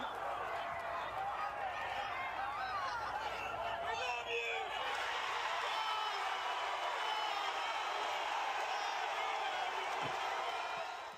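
A large crowd at a Trump rally roars and cheers in a broad, sustained wash of voices, steady and distant-sounding, with a brief sharp knock near the end.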